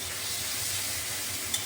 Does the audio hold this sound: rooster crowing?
no